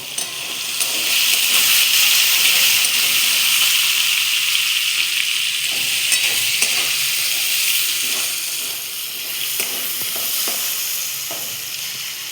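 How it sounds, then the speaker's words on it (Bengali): Stuffed bitter gourd frying in a pan with salt and turmeric, a loud, continuous close-up sizzle and hiss with occasional faint stirring knocks. "পরিমাণ মতো লবণ, আর হলুদ দিয়ে একটু হালকা ভেজে নেবো"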